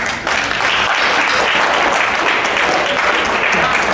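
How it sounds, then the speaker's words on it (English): A stand-up comedy audience bursts into loud, dense applause, many hands clapping steadily together for several seconds. "Clap if you've been married over 50 years."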